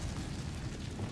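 A fire spell cast in Hogwarts Legacy gives a steady, dense crackling roar that lasts the whole moment, loud and close, with no talk over it.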